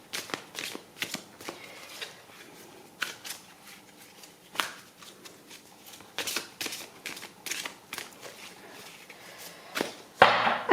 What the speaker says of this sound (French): Je vais prendre 7 cartes de l'oracle de l'ultime vérité